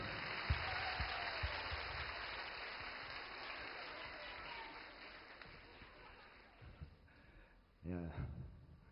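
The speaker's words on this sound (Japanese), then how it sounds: "拍手。" Applause from a live concert audience, a broad steady wash of clapping that fades gradually, followed near the end by a brief burst of nearby talking.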